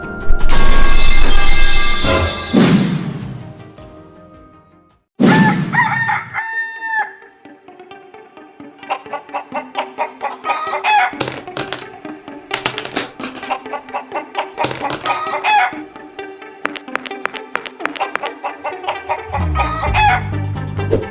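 A rooster crows loudly and clucks repeatedly in a home setting, with sharp, close calls in irregular bursts and no talk over them.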